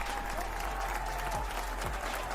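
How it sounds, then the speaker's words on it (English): Applause from a crowd during a live streamed event, a short, dense burst of steady clapping that holds at an even level throughout. "So, round of applause."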